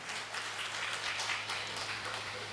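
Audience applause after a Tamil speech, a steady patter of many hands clapping, fairly faint and distant, with no voices over it for the short duration.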